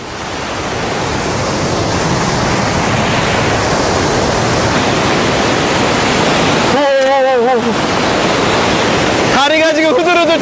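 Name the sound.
Khone Phapheng waterfall roaring on the Mekong River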